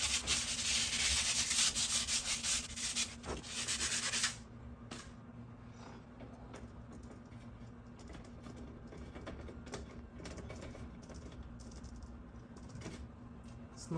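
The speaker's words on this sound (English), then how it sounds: "you can't really add on the new parts unless you sand it down." Sanding burrs off the exposed shaft of a garage door torsion spring assembly, a loud, steady abrasive rubbing for the first four seconds that then drops to a quieter, sparse scraping over a constant low hum.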